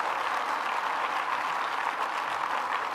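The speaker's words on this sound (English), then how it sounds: "Let's give another round of applause to Senator Cooney." Audience at a governor's announcement event applauding, a dense, even wash of clapping from a crowd, moderately loud and steady with no talk.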